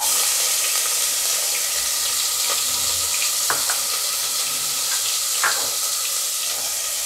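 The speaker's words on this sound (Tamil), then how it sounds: "இப்போது வெங்காயம் சேர்த்துக்கலாம்." Onions frying and being stirred in a pan while making rice upma, a steady close sizzle with occasional scrapes and clinks of the spoon running throughout, with no talking.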